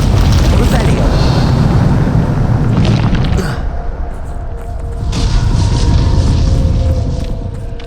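A Bombarda explosion spell goes off in Hogwarts Legacy: a loud, broad roaring blast that fills the first few seconds, then drops to a lower rumble and crackling debris that swells slightly again before fading.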